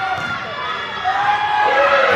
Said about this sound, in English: One more the crowd is calling.